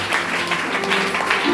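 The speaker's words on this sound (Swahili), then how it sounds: "Hata uweze nipigia makofi" An audience claps steadily, a dense wash of applause that runs without a break through the short stretch.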